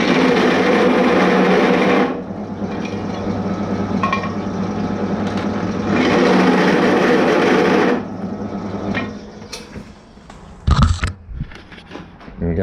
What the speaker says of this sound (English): I'll just run across to the little drill press in a minute.